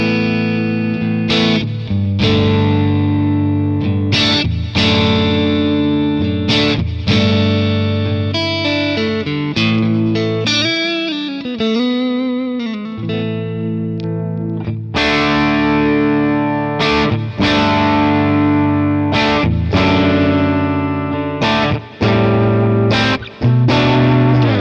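An electric guitar played through a Quad Cortex capture of a Matchless HD30 amp rings out loud and alone, with driven, slightly distorted strummed chords and picked notes, plus a warbling bent passage midway.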